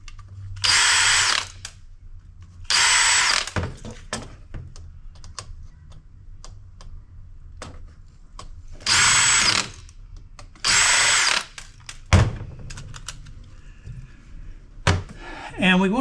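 Cordless power driver backing out bracket screws on a peripheral circuit board, four loud whirring bursts of about a second each, separated by quiet handling clatter and a few knocks.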